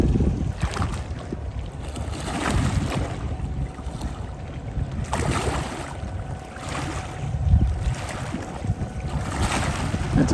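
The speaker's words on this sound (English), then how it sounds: "Let's listen to the water for just a minute." Water lapping against the hull of the Battleship Texas at low tide, a steady close washing and sloshing with gentle surges, mixed with wind buffeting on the microphone and no talk.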